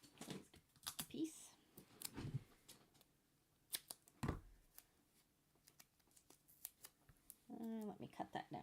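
Scissors snip through thick dimensional foam while making a card, several sharp separate cuts spread across the clip, with quiet speech and soft handling sounds between them.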